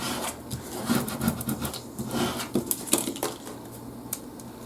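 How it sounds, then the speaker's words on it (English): A plastic gift card is rubbed firmly over cut vinyl letters on transfer tape for a Cricut craft, making close, uneven scraping and rubbing strokes in quick bursts with no speech. "I'm actually going to take that gift card and give this a good rub"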